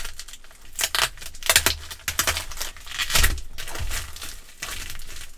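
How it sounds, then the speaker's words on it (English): Plastic packaging for custom-printed Ninjago minifigures being ripped open by bare hands, with sharp bursts of tearing and crinkling broken by short pauses, close and fairly loud. "we use our bare hands to rip open packages"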